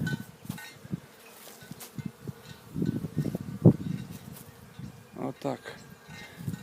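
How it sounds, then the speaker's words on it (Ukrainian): Honeybees buzzing around hives at an apiary, a faint, close hum with individual bees droning past the microphone, while someone talks quietly in the background. "І так, бджілка вся жива, здорова"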